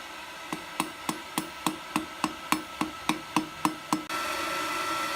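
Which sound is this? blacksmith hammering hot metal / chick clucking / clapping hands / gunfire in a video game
blacksmith hammering hot metal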